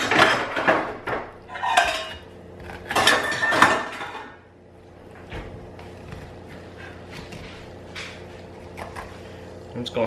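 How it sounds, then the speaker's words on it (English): A spoon scrapes the seeds out of a halved cushaw squash in a series of close, gritty strokes, which give way to quieter kitchen handling sounds. "I'm just gonna scrape out the seeds like this."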